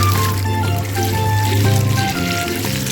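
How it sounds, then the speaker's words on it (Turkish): Water splashes and trickles as it is poured into a child's pool, a close, loud gush lasting a few seconds amid bright background music. "Biraz su da ben dökeyim"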